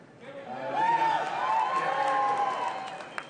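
A room full of Donald Trump supporters cheers and shouts at a steady swell for about three seconds. A voice calls out above the dense crowd noise.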